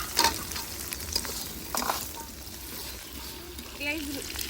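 Dried surma fish frying on a stove with onion and garlic, a constant sizzle with stirring scrapes and light clinks, while a voice talks faintly underneath.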